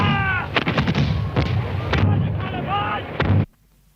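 Rebel cannon open fire in battle, a rapid series of loud, close booming shots that overlap one another, ending abruptly in near silence.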